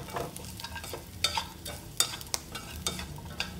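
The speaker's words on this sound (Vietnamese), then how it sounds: "Mình đảo đều." Dried shredded squid being stirred in a frying pan, a soft crackle broken by several sharp scrapes and taps of the spatula.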